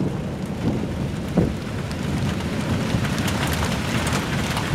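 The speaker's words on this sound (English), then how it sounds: "And there's the thunder. Rain's getting harder" Heavy rain falls steadily through the night at an army field position, with a brief low rumble of thunder early on, all as a dense, continuous wash of noise.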